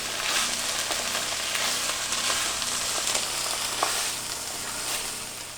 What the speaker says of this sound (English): we're going to let this simmer for a few minutes.